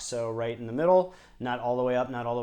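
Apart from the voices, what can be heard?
No distinct noise like a dog, phone or traffic.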